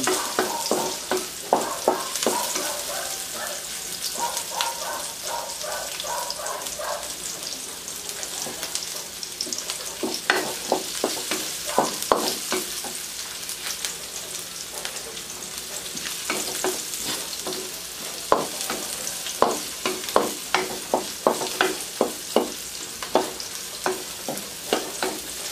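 Pancit canton noodles being stir-fried in a pan, with steady sizzling and frying under a rapid series of sharp scraping and tapping stirs from a utensil, close and continuous with no talking.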